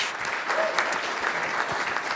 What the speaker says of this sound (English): Can I have a round of applause for Kevin from MySalesCoach?